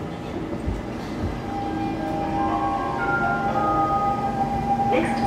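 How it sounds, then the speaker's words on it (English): A Siemens C651 metro train's motor in Singapore hums and whines with rising melodious tones as the train accelerates, under steady rumbling carriage noise. "this train uses a very melodious motor"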